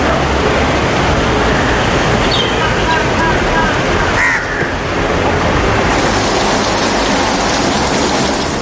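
Storm winds and heavy rain from Cyclone Yaas lashing the Odisha coast, a loud continuous broadband roar with a brief dip midway and no clear voices.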